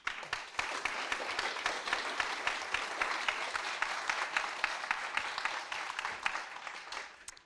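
Applause for a three-person panel at a round-table on soil contamination, many hands clapping in a thick, even crackle that holds steady for several seconds and then stops.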